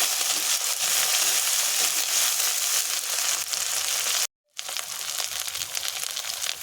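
Fish stirred in a hot pan with turmeric and salt for a pangas and tengra recipe, giving a steady, loud crackling sizzle with scraping that cuts out briefly, then resumes.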